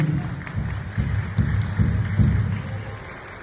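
Audience clapping at a New Year celebration, a moderate crowd giving a steady round of applause at close range, with faint voices mixed in.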